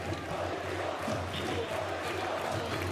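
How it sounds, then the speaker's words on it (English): Crowd at an Esports World Cup playoff event chanting a player's name, a steady rhythmic mass of voices filling the space throughout, moderately loud and without a break. "A crowd chanting Beepo's name"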